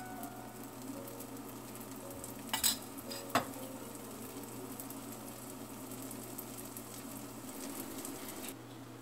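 Adai dosa batter with onion and coriander leaves sizzles softly in oil on a pan, a faint continuous crackle broken by two sharp clinks from a utensil.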